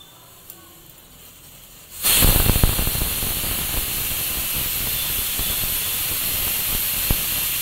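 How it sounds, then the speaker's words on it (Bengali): After a quiet start, a pressure cooker that has been boiling dal suddenly releases its steam in a loud, continuous, close hiss that holds steady to the end. "কুকারে ডালটা সেদ্ধ করা কমপ্লিট হয়ে গেছে"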